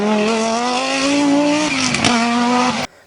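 An Audi race car drives past loudly, its engine holding a steady high-pitched roar with a brief rise and a tire squeal around the middle, then it cuts off abruptly near the end with no voices.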